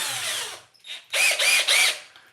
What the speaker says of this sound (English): And this is a drill with countersink already in it.